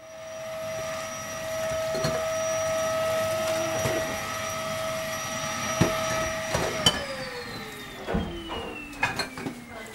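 Hoover vacuum cleaner fitted with the wrong bag, running in a student house as a steady whine that drops in pitch as it winds down, with clunks and knocks near the end.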